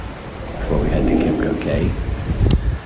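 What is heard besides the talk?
wind on a cruise ship deck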